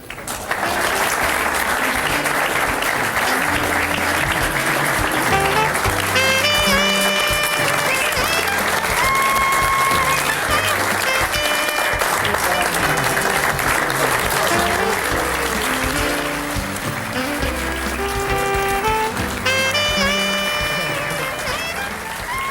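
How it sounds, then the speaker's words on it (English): A television studio audience gives Larry and Geraldine a loud, sustained round of applause that lasts the whole stretch, with music playing over the clapping. "Ladies and gentlemen, a round of applause for Larry and Geraldine."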